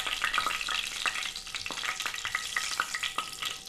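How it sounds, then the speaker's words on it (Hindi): Carom seeds and a pinch of asafoetida crackle in hot oil at the start of a cluster-bean curry, a close, dense sizzle peppered with quick popping bursts throughout, no voices. "इसे हम अजवाइन में छोकेंगे"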